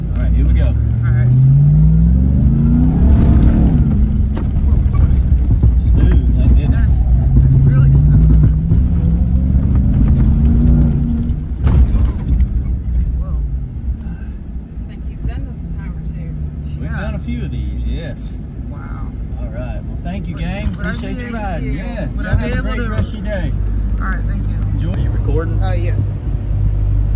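A Ram TRX truck revs its engine at the 2022 Texas State Fair, a loud, deep rumble swelling and easing in repeated surges, with voices talking nearby throughout.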